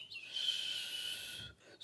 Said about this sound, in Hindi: ऐसे शोर करते हुए कालू कौवा वहां से उड़ जाता है